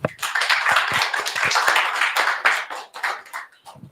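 An audience claps for the guests of a start-up week fireside chat, a brisk burst of many hands close by, tapering off after a few seconds.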